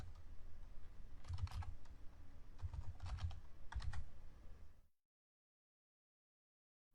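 Close computer keyboard typing while writing code comes in three short bursts of rapid keystrokes over a low steady hum, then cuts to silence.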